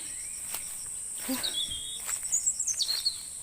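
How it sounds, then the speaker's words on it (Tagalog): Faint bird chirps and twittering calls over a steady high insect drone in a farm field during a bamboo shoot harvest. "Naririnig nyo yung uni ng ibon."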